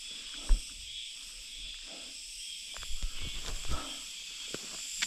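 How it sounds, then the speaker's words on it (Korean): Cicadas buzz loudly on a mountain during a summer herb-foraging hike, a dense steady high-pitched drone throughout, with brief rustles and footstep-like thumps nearby. "오늘도 비는 오지 않고 매미소리만 시끄럽습니다"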